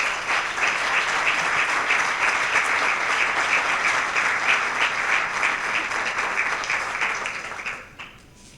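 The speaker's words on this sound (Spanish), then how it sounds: "Un aplauso para Pedro Siles, por favor." Loud, sustained audience applause at a town proclamation event, dense clapping from a crowd holding steady for several seconds before tapering off near the end.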